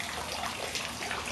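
Six-week-old Jack Russell puppies splash in a water dish while drinking on a hot day, giving a faint, brief, continuous watery sloshing and trickling.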